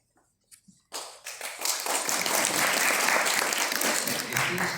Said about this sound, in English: Please hold your applause at the end.